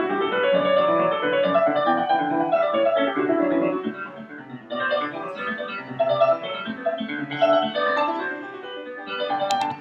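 A recording of Bach's Goldberg Variations played on solo piano: dense, overlapping notes at a steady moderate level, with no talking.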